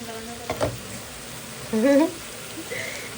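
Mixed vegetables with prawns sizzling and being stirred in a pan, a steady close frying hiss with scraping stir noises and brief voice sounds over it.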